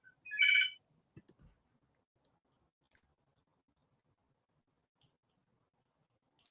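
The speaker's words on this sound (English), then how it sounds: "The phone's ringing." A phone ringtone gives a single short electronic chirp at the start, followed by a few soft clicks and near-silence in an otherwise quiet room.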